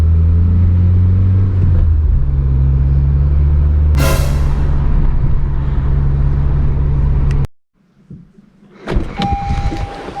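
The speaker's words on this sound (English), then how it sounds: "I'm gonna drive around this neighborhood and warm it up." A 9th-gen Honda Civic Si with a cold air intake driving through a neighborhood: steady engine drone and road noise heard from inside the car, then a sudden cutoff and quieter rustling.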